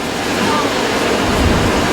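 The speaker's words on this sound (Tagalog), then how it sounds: "Ganito malakas ngayon yung nararanasan na nabayo ng hangin mula kay bagyong Nona" A loud, steady roar of strong typhoon wind in Legazpi, Albay, broadband and unbroken, battering the microphone for the whole stretch.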